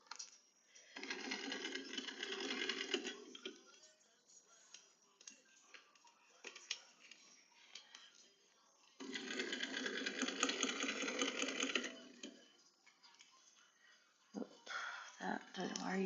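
A home sewing machine stitches a dress in two long, steady whirring runs with a quieter pause between them. Light handling noise fills the gap, and a short burst returns near the end.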